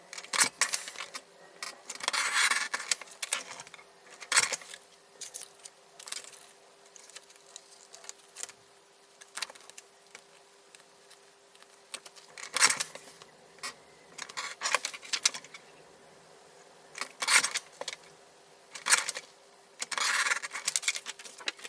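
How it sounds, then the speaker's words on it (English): Repeated short snips of small scissors cutting around laminated paper tab dividers, coming in bursts with pauses between, close and fairly crisp. "then I will cut around the tab with a small pair of scissors."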